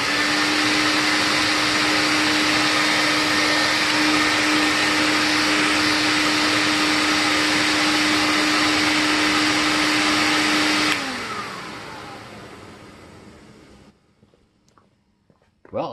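A TriStar vacuum cleaner fitted with a cheap HEPA exhaust filter runs loudly and steadily, with a constant whine, then the motor shuts off and winds down to near silence, followed by a brief clunk.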